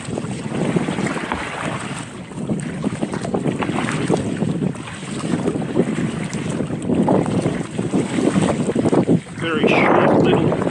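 Steady gusting wind rushes over open water during a kayak paddle on Lake Wellington, with choppy wind-swell splashing against the hull; loud and continuous, swelling louder near the end.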